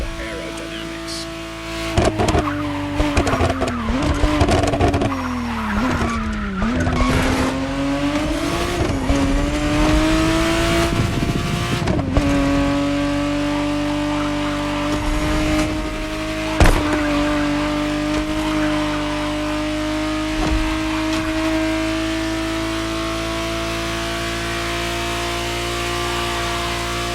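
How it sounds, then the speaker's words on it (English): A 1991 Ferrari Testarossa in The Crew Motorfest revs and pulls through its gears with a loud, close engine note, along with some tire squeal, under a narrator's voice. "The exact model Motorfest has put in your hands is the 1991 re-engineered version of the Testarossa"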